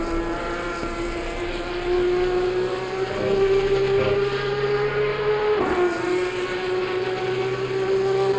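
Porsche Supercup race car in Assetto Corsa Competizione at the Nürburgring, engine droning loud and steady with a rising pitch, then a sharp dip around a gear change before climbing again, heard alone without talk.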